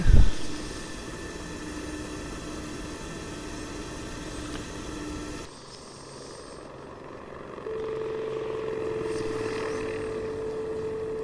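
A steady engine drone with a whining, rotor-like hum from a Mi-8MTV helicopter in a flight game runs continuously, shifting in tone partway through, with no voices.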